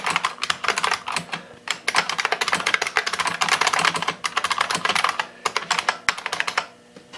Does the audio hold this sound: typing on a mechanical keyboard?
yes